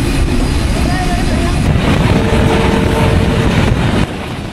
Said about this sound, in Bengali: আমাদের ট্রেন ছেড়ে দিল নাটোর থেকে